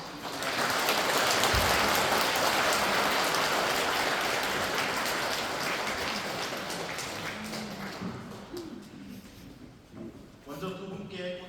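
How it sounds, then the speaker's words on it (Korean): A church congregation gives loud, sustained applause at a feast-day celebration for a priest and a nun. The clapping is dense and rain-like, fades gradually, and gives way to quiet talk near the end. "큰 박수 부탁드립니다."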